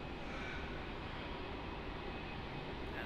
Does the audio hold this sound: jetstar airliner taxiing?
yes